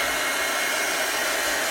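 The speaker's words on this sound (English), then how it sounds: "the reason why I'm drying this like this is because before I go through and add more layers onto this" A hair dryer blowing steadily on a chalk-painted pillow, a constant loud close whoosh with no breaks and no talk.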